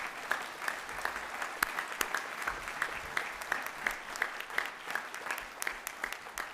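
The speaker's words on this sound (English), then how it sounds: "Let's give them a clap because you guys are fantastic." Audience at a university fall convocation ceremony claps steadily, a fairly faint, even patter of many hands at a distance with scattered sharper claps.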